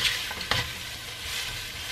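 Garlic powder sizzling and being stirred in a hot pan while making puffy tacos, a steady close hiss with a couple of sharp scraping stirs.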